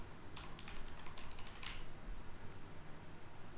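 Rapid, steady typing on a computer keyboard while writing C++ code, with clustered keystroke clicks running close and clear throughout, no talking.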